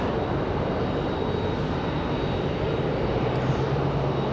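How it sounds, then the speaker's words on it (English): ATR turboprop on short final at Raleigh-Durham airport, a steady, even engine drone held at a distance throughout, with no voices. "the ATR is getting ready to be on short final"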